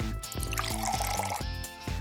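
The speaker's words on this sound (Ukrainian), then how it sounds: "і наливаємо водичку" Water is poured into a balloon that already holds glitter, making a steady liquid fill, close and fairly quiet, with music playing over it.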